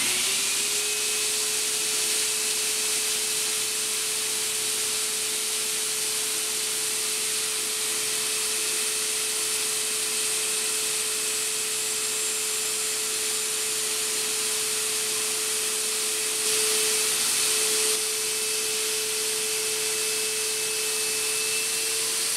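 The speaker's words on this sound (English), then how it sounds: "I'm gonna get the heat gun, see if I can get those to go a little bit deeper" A heat gun blows continuously on the eye sockets of Iron Man Mark V briefcase armour, a loud, even hiss of rushing air with a steady fan-motor whine that barely changes.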